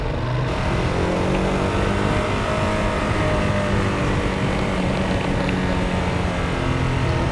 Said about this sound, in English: I would still want it to be louder, but I would be quite happy with just having the stock exhaust here.